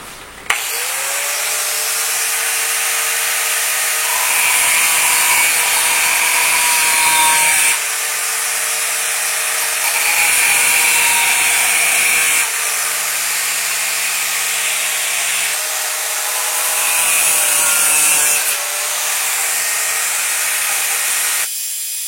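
A bent steel nail being cut with a hand tool to form a small hook, giving a steady rasping, grinding sound that runs in long passes with short breaks between them, close and fairly loud, with no talking.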